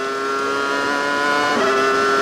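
Barrichello's Ferrari Formula One car at full throttle in qualifying at the Brazilian Grand Prix, a steady high-pitched engine wail that climbs slightly as it shifts, heard alone without commentary.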